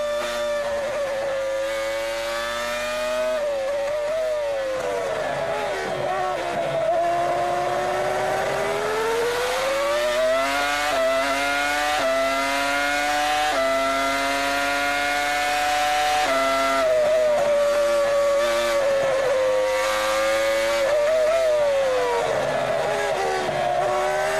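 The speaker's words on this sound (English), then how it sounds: "Listen to that Toyota engine as he makes his way around." A Toyota race car engine screams around the track during French Grand Prix practice, its loud high-revving note rising and falling through gear changes and corners for the whole stretch, with no talk over it.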